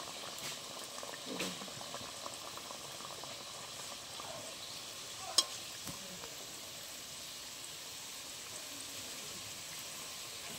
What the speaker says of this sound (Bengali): একদম লো ফ্লেমে এটা আস্তে আস্তে ভাজতে হবে